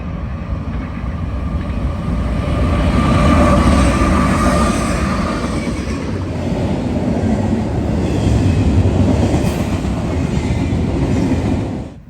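Two Norfolk Southern GEVO locomotives lead a freight train past, a loud steady roar of engines and rolling cars that swells and holds for the whole stretch, with rail rumble throughout.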